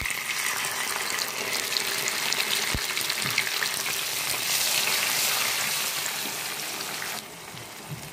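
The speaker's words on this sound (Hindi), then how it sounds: "अब इसमें हम मसाला डाले दे रहे जो हमने पीसा था।" Ground masala paste frying with reddened onions in hot oil for a halwai-style mixed vegetable dish, a loud continuous hiss and crackle held close for several seconds before easing slightly at the end, no speech.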